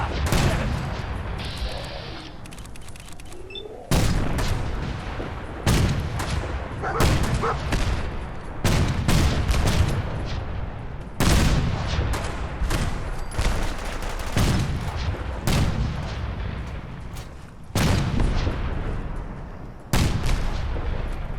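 Fallout 4 video game combat with repeated heavy gunshot bursts and booming blasts at irregular intervals, loud and close, over a constant outdoor background.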